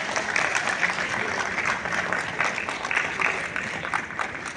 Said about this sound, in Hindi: सो उन आउटस्टैंडिंग बच्चों के लिए एक जोरदार तालियां हो जाए.